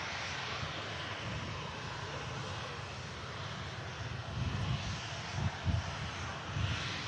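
A BA shuttle airliner taxiing at Manchester Airport, a steady broadband jet engine roar heard from a distance with some wind buffeting and a few low rumbling swells toward the end.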